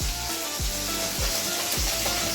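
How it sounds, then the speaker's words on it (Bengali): Fish fries in a pan with a constant crackling sizzle, broken by a few regular scraping stirs. "মাছ ভাজছি"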